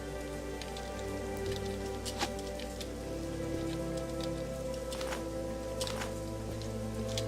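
Rain in a Morrowind-style fantasy game world falls as soft, steady patter with scattered sharper drops over a constant low ambient hum, fairly quiet and continuous.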